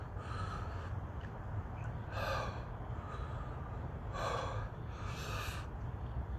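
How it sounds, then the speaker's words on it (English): Heavy, ragged breathing after eating a Chocolate Primotalii hot pepper: several sharp gasping inhales and snorting exhales, close and fairly quiet, spaced a second or two apart with no speech. "I'm just going to take a minute or so to breathe here."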